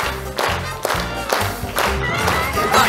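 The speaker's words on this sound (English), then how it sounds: "all you need to do is clap your hands" Pantomime audience at a Snow White show clapping along in steady rhythm to a song with music, loud and close, with singing over the top.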